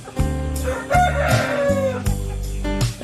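A Bangkok rooster crows loudly and close by, a long drawn-out call followed by further crowing, with no talking over it.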